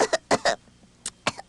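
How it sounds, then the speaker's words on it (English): A narrator voices a pretend cough for a cottontail rabbit in a told folk tale: a few short, sharp coughing bursts in quick succession, close and clear, with brief pauses between them and no other sounds. "Cottontail pretended to cough."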